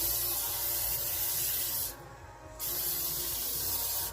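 A steady loud hiss of cooking spray onto parchment paper, pausing briefly in the middle before spraying again, close and continuous.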